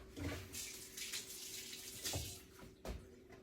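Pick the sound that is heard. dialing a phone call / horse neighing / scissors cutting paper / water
water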